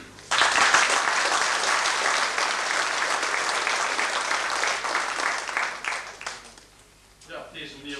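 Dense applause from an audience at a 1991 Gulpen ceremony honouring silver jubilees, a sustained wash of many hands that swells early, holds steady, then thins out near the end as a voice begins.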